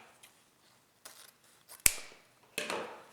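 Scissors snip through 2.5-inch ribbon for a dovetail end while making an Easter fabric mesh wreath, a sharp close cut followed by a second crisp snip, with faint handling rustle in between.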